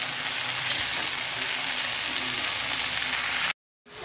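Japanese papaya leaves stir-fry in a pan with a loud, steady hiss and crackle, close up and unbroken, before cutting off abruptly near the end.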